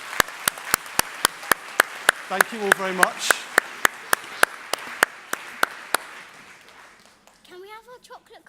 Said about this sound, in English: Please give all our volunteers a round of applause